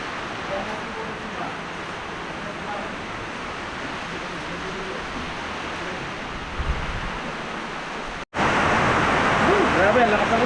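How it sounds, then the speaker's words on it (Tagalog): Heavy rain pours down steadily as a dense, continuous broadband hiss, loud and close, with a brief dropout near the end before the downpour resumes even stronger. "Grabe, ang lakas ng ulan."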